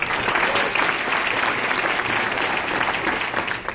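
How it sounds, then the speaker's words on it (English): A large audience at a business presentation claps loudly in a thick, continuous burst of applause that holds steady with no talking over it. "Another round of applause for our diamonds."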